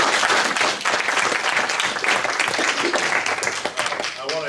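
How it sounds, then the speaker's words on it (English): An audience at a talk on citizen activism against mountaintop removal mining claps warmly, a full, sustained round of applause from many hands with some nearby claps sharper than the rest, and a voice briefly audible at the end. "let's give them a round of applause"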